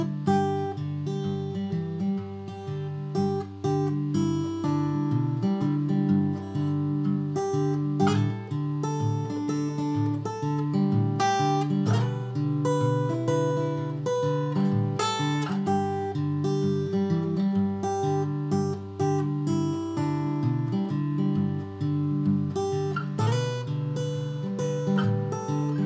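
Slow fingerpicked bluesy acoustic guitar playing a tune, with a steady alternating bass under plucked melody notes, close and alone at moderate volume.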